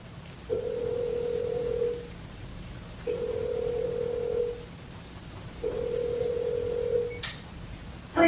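Three long steady telephone ringback tones, each about one and a half seconds, repeat at even intervals on a prison phone line while a call connects, clear over faint line hiss, with a short click near the end.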